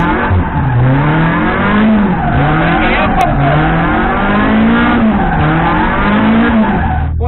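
A car drifting in tight circles, its engine revving and falling in a steady repeating cycle while the tires squeal continuously, loud and close throughout.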